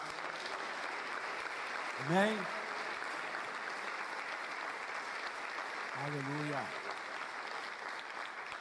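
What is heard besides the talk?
church congregation applauding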